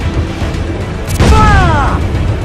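Cannon fire from a ship battle in Assassin's Creed IV Black Flag: a single heavy, booming blast at sea over a constant low rumble, with a descending whistling tone trailing after the shot.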